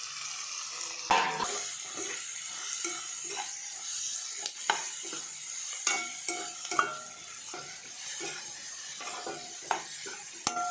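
Radish pieces with tomato stirred in a pan for chutney, with a steady soft sizzle and repeated scraping, clinking stirs across the clip.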